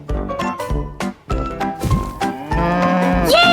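A cow moos in a farm-animal sound lesson for children, a long drawn-out call ringing out clearly and up close with nothing else in the background.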